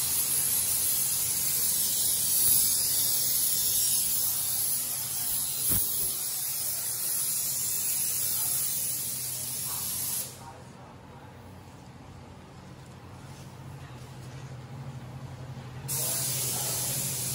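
Underbody coating from a German Wood-brand product is sprayed onto the underside of a new car in a workshop, a long, loud, steady hiss that drops out briefly near the end and then resumes, with a voice talking underneath.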